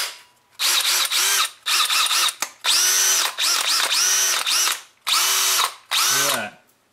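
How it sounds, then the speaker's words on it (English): A DeWalt 20V cordless drill on a rebuilt lithium battery whirs in several short bursts, revving up and stopping with brief pauses between, close and loud, the last burst winding down in pitch. "Let's try it in a drill."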